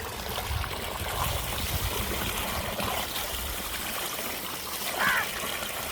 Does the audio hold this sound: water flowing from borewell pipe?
yes